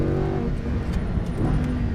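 A Lamborghini Huracan LP610-4 on a race track gives a brief, close engine rumble with a low, steady growl that holds for a couple of seconds, with no speech over it.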